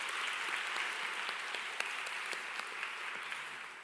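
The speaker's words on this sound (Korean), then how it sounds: "우리 수고한 예배팀에게도 사랑과 격려의 박수를 보내겠습니다" A church congregation at a college-group worship service gives sustained applause for the worship team, a fairly faint, even wash of many hands clapping with a few sharper claps standing out.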